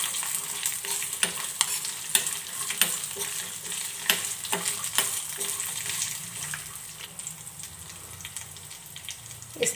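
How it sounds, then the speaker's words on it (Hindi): Whole red chillies and masala fry on low heat in a pan, a soft continuous sizzle broken by repeated sharp scraping and clinking strokes of a spoon stirring, close up. "आँच एकदम कम रखे, नहीं तो ये मसाला जलने लगेगा। और थोड़ा सा हिला दे।"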